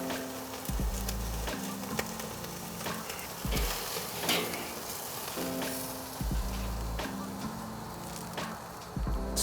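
Steak sears in a hot pan with a constant loud sizzle and crackle, alongside intermittent low hum and occasional clatter of handling, with no one speaking.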